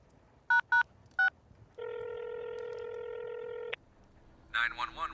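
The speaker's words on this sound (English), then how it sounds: "I make a phone call." Touch-tone phone dialing an emergency call: three short, crisp keypad beeps, then a steady tone held for about two seconds, followed by a voice beginning to speak.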